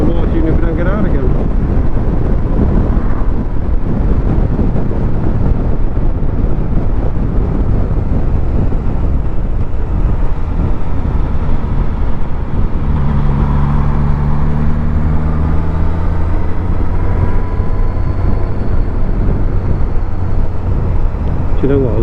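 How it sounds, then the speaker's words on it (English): A Suzuki GSX S1000 GT motorcycle is ridden on a winter road, with constant loud engine rumble and wind buffeting at the microphone for over twenty seconds and a shift in engine tone partway through. "love the way this bike sounds"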